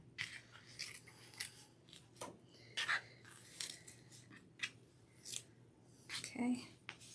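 Scissors snip away excess craft material for a heart wreath attachment, a series of short, irregular cuts close by, with soft rustling of the material between them.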